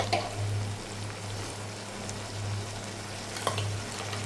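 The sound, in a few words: ginger garlic chili paste frying with onions in a pan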